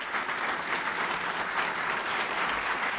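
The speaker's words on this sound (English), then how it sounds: "you can continue clapping" Steady, dense applause from an audience at a state government education launch event, continuous and fairly loud throughout, with no speech over it.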